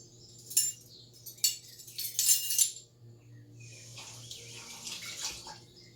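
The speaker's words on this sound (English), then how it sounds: "I'm just cleaning out my measuring spoon because I need it for one other" A metal measuring spoon being rinsed under a running kitchen tap, with a few short splashing bursts and light clinks, then a steadier, quieter stream of water, fairly close with no talking.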